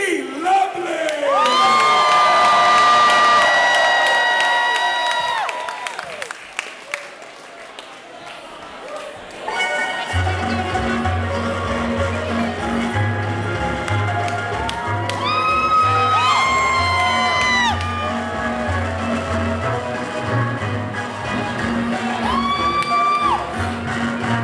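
A burlesque audience screams, whoops and cheers loudly for a Filipina performer, a dense crowd roar that dips briefly then swells again with shrill whoops over steady low rhythmic music.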